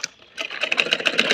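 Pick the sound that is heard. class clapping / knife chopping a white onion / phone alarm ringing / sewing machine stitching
sewing machine stitching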